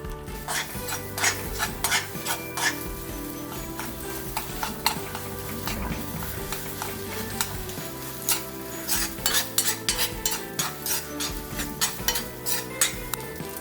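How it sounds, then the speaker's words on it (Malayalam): Eggs scramble and fry in oil in a pan for restaurant-style chicken fried rice, with a steady sizzle, rapid spatula clinks and scrapes against metal, and a tonal background underneath. "മുട്ട ഒന്ന് ചിക്കി പൊരിക്കുകയാണ്."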